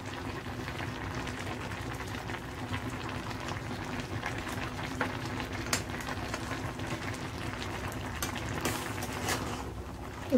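Taro leaves and chickpeas boil in a pot, with a continuous bubbling rumble and occasional small pops throughout.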